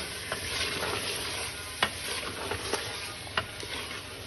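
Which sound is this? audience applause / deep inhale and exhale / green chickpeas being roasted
green chickpeas being roasted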